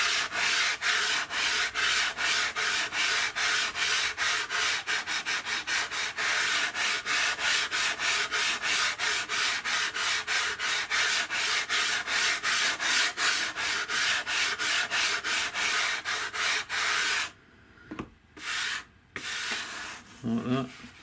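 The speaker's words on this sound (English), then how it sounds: "just get your sanding sponge and just run it across, and it levels them out eventually" A sanding sponge is rubbed back and forth across a Depron foam model airliner fuselage in a fast, even series of close raspy strokes, which stop near the end and are followed by a few soft handling knocks.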